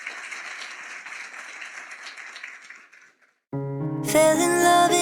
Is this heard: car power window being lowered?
no